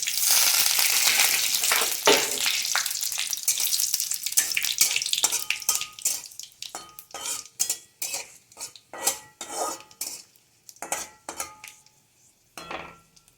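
A dried red chilli and a bay leaf fry in hot oil for masoor dal, a loud sizzling burst at first that settles into a rapid series of sharp metal clinks and scrapes against the pan.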